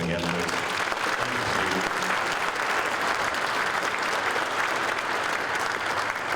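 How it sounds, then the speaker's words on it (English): Dense, sustained audience applause fills the hall at an auto racing hall of fame induction ceremony, loud and even throughout with no gaps. "Can we have a round of applause for him again, please?"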